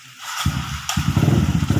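A motorcycle engine starts up close by and runs with a rough, pulsing idle that swells twice into louder revving bursts, with no talking.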